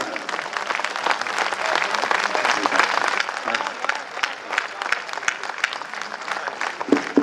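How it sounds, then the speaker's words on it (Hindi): Sustained audience applause at a Hindi poetry gathering (kavi sammelan) in Rajnandgaon, a dense crowd clapping steadily throughout with a few sharper claps near the end, and voices faintly mixed in. "ये तालियां कम है दोस्त"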